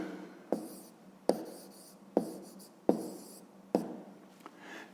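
A pen writing out a fifth-grade math solution by hand on paper, heard as a series of close, quiet scratching strokes with sharp taps at the start of each of about five bursts.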